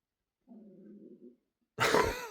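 A hungry human stomach growls with a low, soft gurgling rumble lasting about a second, then a sudden louder, brighter noise breaks in.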